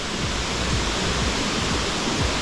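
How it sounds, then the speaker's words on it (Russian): A small mountain waterfall near Yalta on the Ai-Petri route in February pours steadily, a dense close rushing wash of water with no talk over it. "Посмотрим, что там сейчас водопад."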